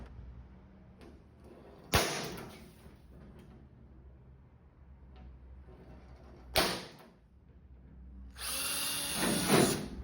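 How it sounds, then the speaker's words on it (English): Power drill boring holes through a metal base plate while building a weld cart, in short separate bursts: a sharp onset near two seconds, another around six and a half, and a longer, louder run at the end, with quiet pauses between. "So I'll drill those out and then figure out a reinforcement from behind."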